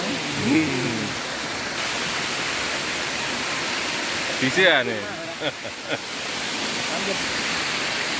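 Pang Sida waterfall rushing in a steady, broadband roar throughout, with a voice speaking briefly over it and faint chatter from others nearby.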